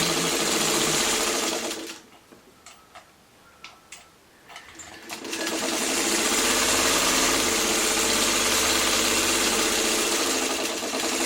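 A sewing machine stitches a coffee-themed quilt block in two long, fast runs of rapid mechanical chatter, separated by a quieter gap of a few seconds filled with light clicks and handling.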